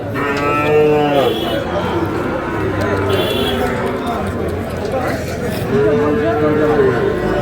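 Sahiwal bull calves moo at the Amberi cattle market in Dinajpur, loud and close, with several long calls rising over crowd chatter and someone talking.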